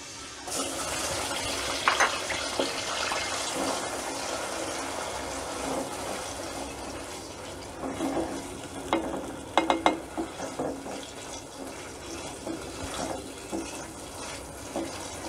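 Onion paste frying in a pan and being stirred: a continuous close sizzle with soft scraping, punctuated by a few sharper clinks and stirring bursts midway, no voices.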